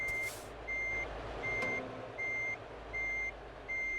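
Repeated electronic reversing beeps from a truck in Euro Truck Simulator 2, steady evenly spaced tones with short gaps over a low engine hum, heard alone without talk.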